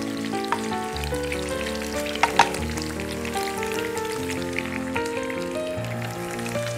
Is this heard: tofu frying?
yes